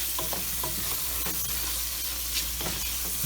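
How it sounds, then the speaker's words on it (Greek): Shrimp frying in oil with onion and garlic while being stirred, a steady close sizzle with soft scraping strokes of the spoon every half second or so. "Και ξανακατεύουμε να πάρουν μια γεύση από το κρεμμυδάκι και το σκόρδο μαζί με το λάδι"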